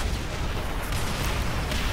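A tank blows up in Call of Duty: World at War amid a barrage of game battle noise: booming, rumbling explosions and gunfire packed into a loud, dense, continuous wall of sound with no speech.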